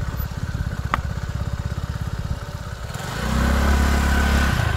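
A motorcycle engine putters in a rapid, even rhythm as a beginner works the throttle, then swells into a louder, deeper revving drone for the final seconds.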